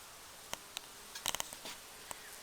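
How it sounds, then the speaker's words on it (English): Bees buzzing around a rosemary plant, faint and intermittent, with several short passes close by, clustered in the middle of a quiet outdoor scene. "get a lot of bees on this plant."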